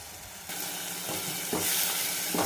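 Tomatoes sizzle and fry steadily in a hot pan while being cooked down for dal tadka, a continuous close crackling hiss that swells in brief surges, with no talking.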